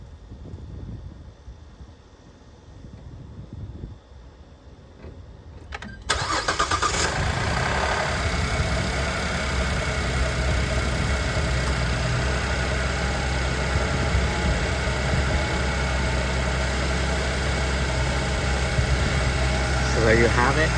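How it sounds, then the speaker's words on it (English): A 2010 Chevrolet Traverse with a 3.6L engine cranks over after a few quiet seconds and catches, then settles into a steady, loud idle that carries on to the end. "let me go ahead and start the engine."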